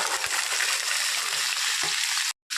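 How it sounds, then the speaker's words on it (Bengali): Green chillies and karamcha fruit fry in oil in a wok with a loud, dense, close sizzle and a few stirring knocks, then a brief gap of silence near the end. "এবারে কড়াইতে তেল দিয়ে কটা সুন্দর লঙ্কা দিয়ে একটু নাড়িয়ে নিয়ে যে করমচাগুলো এগুলোকে এবারে দিয়ে দেব"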